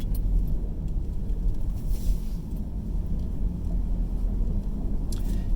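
Steady low rumble of a car cruising along the I-75 highway in traffic, road and engine noise constant with faint passing swooshes, no talking.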